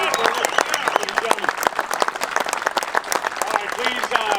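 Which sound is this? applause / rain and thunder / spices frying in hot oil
applause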